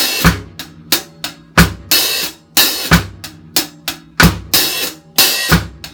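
Reggae-style drum kit groove: cross stick clicks and bass drum in a steady repeating pattern, with hi-hat opening into washy sizzles on the off-beats, played close and loud without talk.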